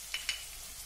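Green chilli pieces and asafoetida sizzle in hot oil, a steady faint fry hiss with two quick crackling pops near the start, heard close and alone.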